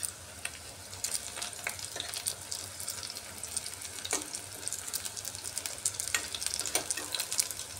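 Bite-size cubes of rohu fish belly pakora sizzle steadily in hot oil after being turned, a dense continuous frying crackle with scattered sharper pops throughout.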